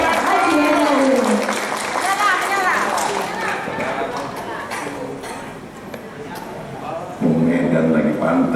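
An audience at a formal Indonesian ceremony claps for a provincial governor, with applause mixed with crowd chatter and an amplified voice, then swelling again at the end.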